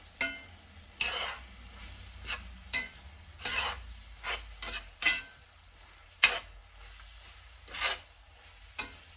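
Ingredients for Amish spaghetti soup are mixed with salt in a pot, producing irregular bursts of scraping and stirring with brief spoon clinks, separated by near-quiet gaps, close to the mic and with no speech.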